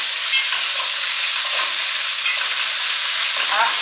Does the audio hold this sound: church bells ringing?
no